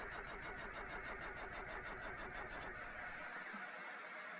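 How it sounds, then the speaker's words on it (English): An engine in Stormworks cranking over with a rapid steady starter chatter and a droning mid-pitched hum, which cuts off abruptly near the end, leaving a quieter hiss. "engine starter"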